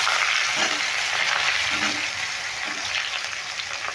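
Potatoes tipped into a pan of frying winter vegetables for a spinach chorchori set off a steady, loud sizzle with bubbling and occasional stirring scrapes, close up and continuous.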